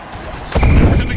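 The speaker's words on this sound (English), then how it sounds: "There's an explosion, but everyone's walking away from it." A video-game explosion in an MFL football game, a sudden loud low boom rising midway and rumbling on to the end, with commentary voices around it.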